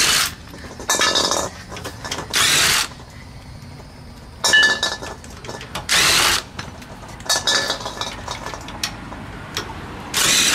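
Lug nuts come off a VW Bus wheel under a power tool, sounding as several loud, close, rattling bursts of a few seconds each, separated by quieter clanks and pauses.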